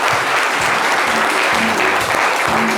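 Loud, dense applause from a studio audience on a French midday game show, celebrating a winning contestant named Emmanuela; sustained and steady throughout, with faint voices beneath.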